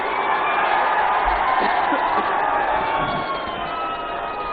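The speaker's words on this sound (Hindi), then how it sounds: "जोरदार तालियों के साथ स्वागत कीजिए।" Crowd at an outdoor political rally cheers and applauds, a dense roar of voices and whoops with clapping blended in, loud and sustained, slightly easing toward the end.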